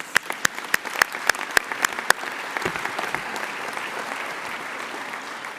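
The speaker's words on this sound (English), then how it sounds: "I think you need another round of applause" Applause at a law school convocation ceremony starts with about nine sharp, evenly spaced claps, then swells into a dense, steady crowd clapping that fades slightly toward the end.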